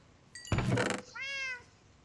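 A cat gives a single clear meow right after a loud thump, close and distinct in an otherwise quiet room.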